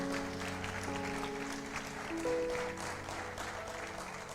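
A church congregation claps at a service, a steady, moderate wash of applause that holds for several seconds.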